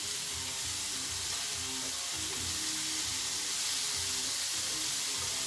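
Shrimp flash frying in a stir-fry pan give a loud, dense, continuous sizzle close up, with a constant bubbling hiss and no talking.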